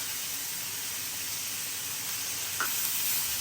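A steak sizzles in a pan with melting butter, a loud continuous hiss of frying fat throughout, with one faint tap partway through and no talking.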